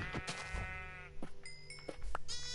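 Several blocky sheep in the Minecraft video game bleat in short, wavering cries, one after another, fairly close and moderately loud, with no speech over them.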